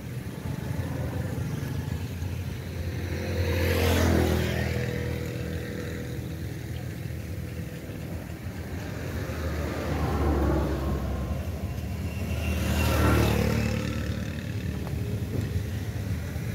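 A 1980 Ford 4600 tractor engine runs steadily with a low, continuous rumble, swelling louder twice as if revving or passing close, with no talk over it.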